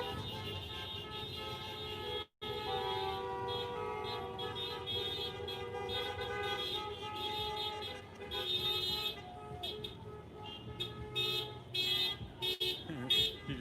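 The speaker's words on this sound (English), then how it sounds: "You just sitting, just honking." Car horns honking repeatedly at a street celebration in San Diego marking the 2020 presidential election result, a dense, continuous blare of toots over traffic and crowd noise.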